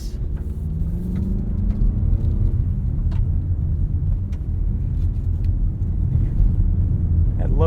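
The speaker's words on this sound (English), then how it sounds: "Stop on this uphill section and accelerate." A 2023 Mazda CX-50 2.5 Turbo AWD pulls away on an uphill off-road section, its engine a steady, loud, low rumble heard from inside the cabin with faint rattles.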